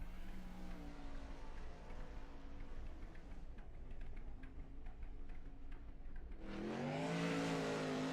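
Race cars lapping a track in a sim racing game, a steady engine drone with shifting pitch across the whole stretch, swelling into a louder, higher whine near the end as a car passes close.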